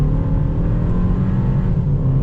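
A Kia K4 GT-Line pulls hard in second gear in manual mode, its engine droning loud and steady from inside the cabin, with no voices over the sound.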